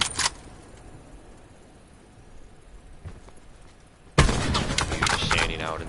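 Gunfire in a battle royale video game, a few faint scattered shots over quiet ambience before a sudden loud burst of rapid firing and game sounds kicks in near the end.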